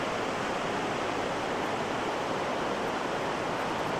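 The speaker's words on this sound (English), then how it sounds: "you can see down here a bit of the spray from that waterfall that's carved it out over hundreds of thousands of years" Continuous spray of a waterfall pouring into a gorge it carved into a pool, a steady broadband rush and hiss with no breaks, loud and close, no voices.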